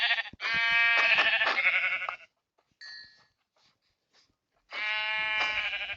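Sheep bleating in Minecraft: two clear, close bleats separated by a short near-silent pause with a faint chime.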